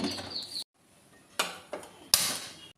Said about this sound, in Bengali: কড়াইটা বসিয়ে আমি গ্যাসটা অন করে দেব।